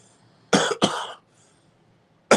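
Two harsh, loud coughs in quick succession from a person recovering after a hospital stay and time off cigarettes, followed by a short pause and the start of a third cough at the very end.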